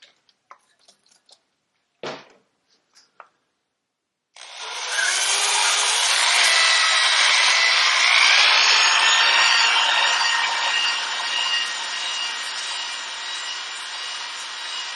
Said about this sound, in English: we're going to use a dingle ball hone on it and smooth it out a little bit on the inside